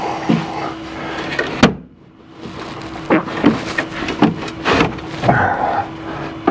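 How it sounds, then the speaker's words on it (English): The door of a Kawasaki KRX 1000 UTV is handled with a sharp latch click, followed by a series of knocks, rattles and clunks of door and plastic panels close by. "And open the door."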